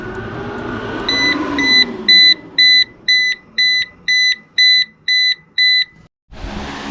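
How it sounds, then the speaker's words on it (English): An ECO-WORTHY 3000W 12V pure sine wave inverter charger sounds its error alarm: eight loud, evenly spaced electronic beeps close by, each about a quarter second long, fading in over a low hum before a sudden cut. "that error alarm we got earlier"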